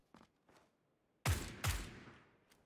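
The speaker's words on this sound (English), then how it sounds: "Someone's shooting me." Two loud, close gunshot blasts ring out in quick succession during a PUBG match, each followed by a brief decaying tail, with a few fainter distant shots before them.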